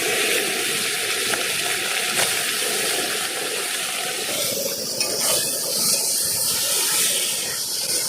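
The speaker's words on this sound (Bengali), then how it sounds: "এবার শুধু নুন হলুদ মাখিয়ে ভেজে দেবো আর খেয়ে নেবো।" Fish rubbed with salt and turmeric frying outdoors in the Sundarbans, a steady loud sizzle and hiss that runs throughout without a break.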